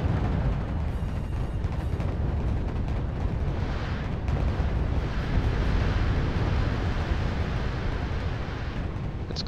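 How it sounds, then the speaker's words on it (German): Calliope rocket artillery in the RUSE strategy game levels buildings in a sustained, roaring wall of explosions and rumbling blasts, loud and unbroken with no voices. "Seht ihr, jetzt können die Kalliope schon von hinten Gebäude platt machen."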